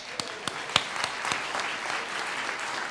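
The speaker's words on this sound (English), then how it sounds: "Let's give him a round of applause." Workshop audience applause, a few loud individual claps at first that swell into steady clapping from a crowd in a room.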